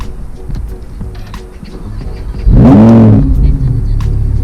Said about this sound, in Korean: 시동 한번 살짝 걸어봐도 괜찮을까요?